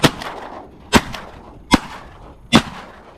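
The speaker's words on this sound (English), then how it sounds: "Sorry if I shot over your head." Four sharp, loud shotgun blasts ring out at uneven intervals during an opening-day teal duck hunt, each with a short echoing tail and no talking.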